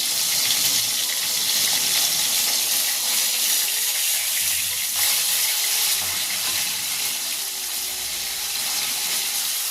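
Bele fish sizzles in a frying pan as it is turned over, a loud continuous hiss and spatter with a brief shift midway, no voices.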